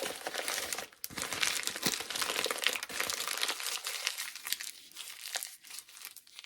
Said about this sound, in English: I'm sorry about the crinkle, the crunching noise.